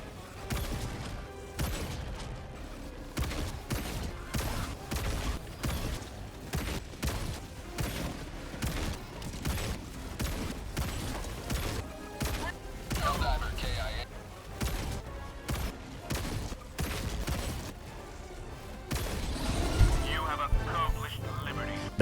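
Repeated charged weapon shots in Helldivers 2, a steady series of sharp blasts at regular intervals over a long stretch, with game effects and a voice speaking at points.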